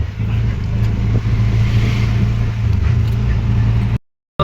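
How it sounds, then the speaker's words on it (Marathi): Cars idling in a queue at a CNG fuel pump, a steady low engine rumble with some revving, held close and loud for about four seconds before cutting to silence. "गाड्या लागलेल्या आहेत"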